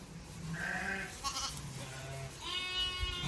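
Several lambs bleat inside a shed, a few high wavering calls one after another at close range with a steady murmur of livestock behind them.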